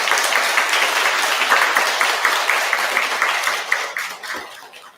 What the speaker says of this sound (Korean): 다시 한번 감사의 감동을 주시고 큰 박수를 부탁드립니다